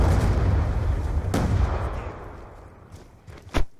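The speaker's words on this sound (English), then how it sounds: "Hellstorm missile inbound." Hellstorm missile strike in a Call of Duty Black Ops Apocalypse multiplayer match, a loud rumbling blast that fades out over a few seconds, followed by a sharp nearby gunshot-like crack.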